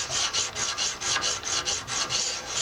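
Pocket knife drawn over a Smith's sharpener in about ten quick, regular rasping strokes, close and crisp, with no talking.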